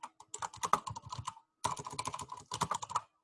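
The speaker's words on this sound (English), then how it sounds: "No stress typing." Rapid clicking on a computer keyboard, typed in two close bursts split by a short pause, crisp and near with no talking.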